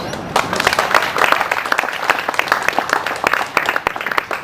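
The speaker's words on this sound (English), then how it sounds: "I reckon that's worth a round of applause." An audience breaks into a round of applause for volunteers, dense clapping sustained and fairly close for several seconds.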